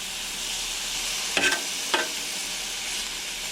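Philly cheesesteak filling sizzles steadily on a Blackstone griddle, with two sharp spatula scrapes as it is stirred partway through; no talking.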